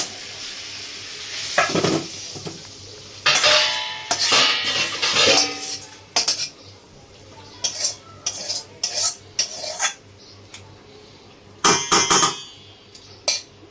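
Cooked curry is tipped and scraped from a pan with a metal utensil, making repeated close clinks and scrapes in irregular bursts over a faint sizzle.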